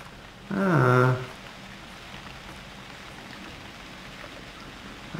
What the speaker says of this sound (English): I did not want it to start raining.